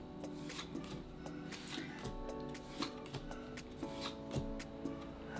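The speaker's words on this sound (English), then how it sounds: "Gotta slide the cards perfectly." Pokémon Stellar Crown trading cards slide out of a booster pack, making soft, continuous papery rubbing and shuffling close by.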